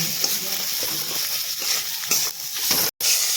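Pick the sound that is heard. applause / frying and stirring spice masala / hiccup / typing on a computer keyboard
frying and stirring spice masala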